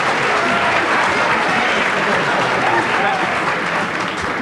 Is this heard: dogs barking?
no